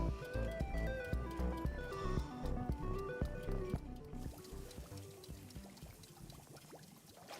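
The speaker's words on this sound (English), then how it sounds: "Now's my opportunity to drink hot water." Hot water pours in the Wanderstop video game, a soft liquid trickle heard faintly beneath gentle background music, with the music thinning out halfway through.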